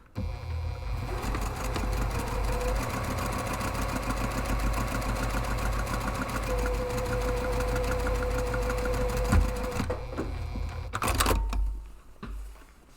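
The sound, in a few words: sewing machine stitching a padded camera bag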